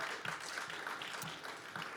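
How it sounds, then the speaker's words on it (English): A pub crowd at a late-night comedy roast in Bucharest gives a round of applause, soft and distant-sounding, a steady wash of clapping over the short stretch. "One more round of applause for Don Cooper."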